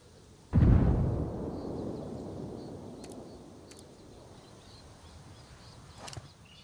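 A frag grenade detonates in Ghost Recon Wildlands, one loud, booming blast that rumbles and slowly fades, followed by a few sharp, distant cracks.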